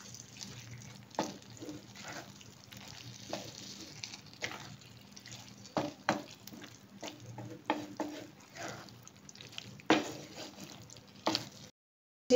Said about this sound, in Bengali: এবার এটা ভালো করে নেড়ে নিই।